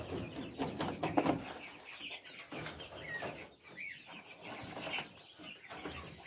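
Adult quails settling into a new cage built for about fifty birds, giving soft clucks and chirps amid faint rustling and clattering of the cage, fairly quiet and continuous.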